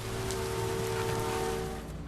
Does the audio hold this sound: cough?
no